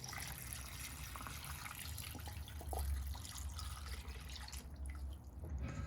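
Water pours steadily into a pot over pork belly and star anise, a continuous low gushing and trickling that stays close and fairly quiet throughout, with no talking.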